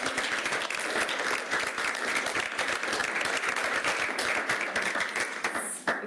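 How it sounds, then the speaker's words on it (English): A seated audience at a student sustainability talk claps in a dense, sustained round of applause that stays loud and steady for several seconds before thinning at the end. "I think we can give them a big round of applause."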